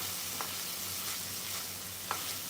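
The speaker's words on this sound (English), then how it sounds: "And continue now to saute the onions." Onions sauteing in a pan deglazed with a teaspoon of vinegar, giving a steady, even sizzle with a couple of faint stirring clicks.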